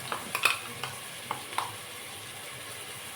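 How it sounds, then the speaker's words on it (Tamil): Onions sautéing with ginger garlic paste for a chicken gravy, a spoon stirring in a pan with a soft sizzle and a few scraping clinks, with no talking. "வெங்காயம் இவ்வளோ இந்த அளவுக்கு வதங்கி பிறகு இஞ்சி பூண்டு பேஸ்ட் போடலாம்."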